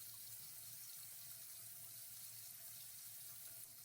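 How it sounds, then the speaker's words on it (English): Water runs steadily from an open bathroom sink faucet, a constant close hiss and splash that stays even throughout with no voices. "simply by opening the faucet and letting the water run for a few minutes"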